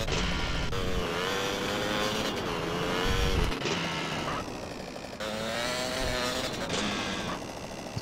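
Steady engine drone from a small, low-powered car driven in GTA San Andreas, with gear-change dips and revving surges. Loud and continuous, with no talk.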